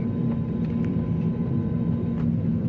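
A steady, low airplane engine drone fills a full passenger cabin, a constant hum with faint rustling and small knocks now and then.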